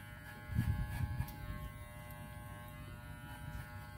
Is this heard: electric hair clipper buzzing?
yes